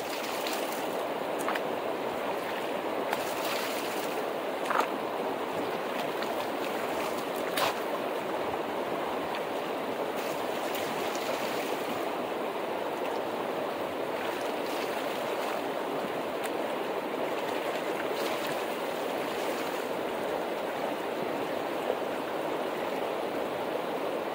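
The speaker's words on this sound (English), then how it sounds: "Wash her down into this bucket." Steady rushing water washing gold sluice mats down into a bucket at a Fairplay, Colorado mining site, a loud continuous outdoor splash with faint clicks scattered through it.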